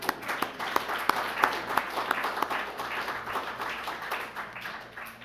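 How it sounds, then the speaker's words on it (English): An audience applauds a research award recipient at an academic awards event, steady dense clapping with a few sharper claps standing out, moderately loud throughout. "Please join me in another round of applause for Don."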